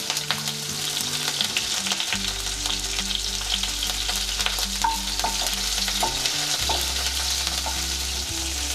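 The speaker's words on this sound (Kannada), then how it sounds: "ಈ ಚಟ್ಪಟ ಅಂದಮೇಲೆ ಇವಾಗ ಹಸಿಮೆಣ್ಸಿನ್ಕಾಯಿ ಹಾಕ್ಕೊಳ್ಳೋಣ" Fennel seeds and green chilies frying in hot oil in a pan for pepper chicken fry: a continuous close sizzle with scattered sharp crackles and pops, and occasional stirring, with no voices.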